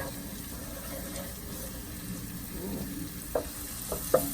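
Chile frying in a pan, a soft steady sizzle with occasional light clicks of a utensil near the end, close and fairly quiet.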